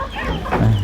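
Chickens cluck close by in a short, loud burst of throaty calls over a background of farmyard noise.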